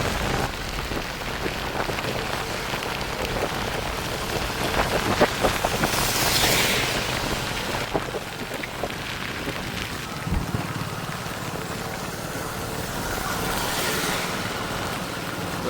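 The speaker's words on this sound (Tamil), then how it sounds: "கடும் மழை தான்" Heavy sudden rain pours down in Chankanai, Jaffna, a steady dense hiss on surfaces throughout, with a low distant rumble of thunder near the middle.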